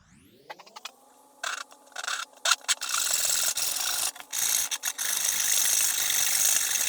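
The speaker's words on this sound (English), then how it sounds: "I'm here hand sawing this thing." Close-up hand sawing through a rusty 12-gauge shotgun barrel: a brief tone, then irregular rasping strokes that settle into steady, harsh back-and-forth grinding.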